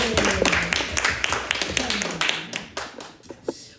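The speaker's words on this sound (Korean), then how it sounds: "모두에게 박수를" Scattered clapping from a church youth retreat congregation at an opening worship service, sparse claps fading out as voices murmur underneath.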